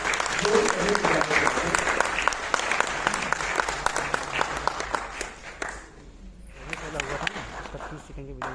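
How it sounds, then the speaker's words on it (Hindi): A crowd at a festival at IIT Kanpur gives loud, sustained applause to welcome children dancers performing a Ganesh Vandana; the clapping dips briefly near the end before swelling again, with voices underneath. "तो आइए एक बार हम जोरदार तालियों के साथ इन बच्चों को अपने बीच में आमंत्रित करें"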